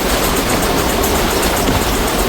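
The Ambala Cantt Express, train 14735 from Sri Ganganagar, runs fast with a dense, loud, continuous roar of wheels and rushing air heard from inside the carriage, without a break.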